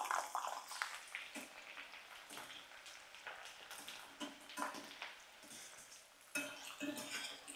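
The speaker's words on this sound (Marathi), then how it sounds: "आता लसूण घेऊया फ्राय करून" Garlic cloves frying in a pan with roasted coconut for a peanut-garlic chutney, heard as scattered clinks and scrapes of stirring over a faint, steady sizzle, close and fairly quiet, with no talking.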